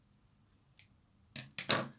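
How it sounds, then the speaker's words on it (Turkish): Scissors cut brown yarn while making a crocheted amigurumi lion, giving a few faint snips followed by two or three sharper, louder close cuts in quick succession in a quiet room. "Ve kahverengi ipimi kesiyorum."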